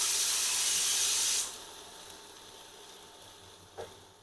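Tomatoes hit roasted cumin in a hot pan on an induction cooktop, giving a loud, bright sizzling hiss that lasts about a second and a half, then drops to a softer steady sizzle with a small clink near the end.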